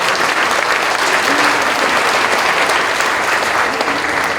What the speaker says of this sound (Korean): 우리 박수로 영광 드립시다.